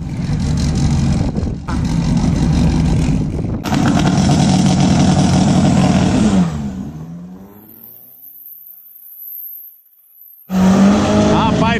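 Turbocharged VW Fusca of over 300 hp on a drag strip, engine roaring hard with tire squeal, then a sudden cut to near silence before the loud engine sound returns; voices are heard shouting over it.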